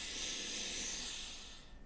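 A single slow, deep in-breath taken during a guided heart-breathing exercise, heard as a soft sustained airy hiss up close that tapers off at the end.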